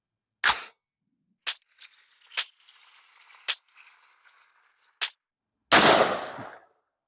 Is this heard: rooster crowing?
no